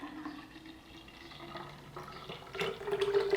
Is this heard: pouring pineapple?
yes